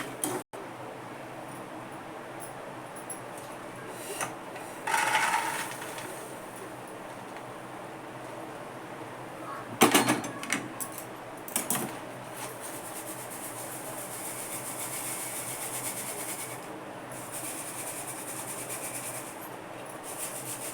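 Roasted peanuts being scooped out of hot salt in a pan, a steady close gritty rubbing and rasping with a few louder scraping bursts, continuous and without speech.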